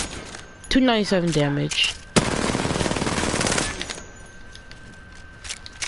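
Gunfire from Apex Legends rips out at a target in one fast, dense automatic burst of about a second and a half, loud and close, after a short spoken phrase.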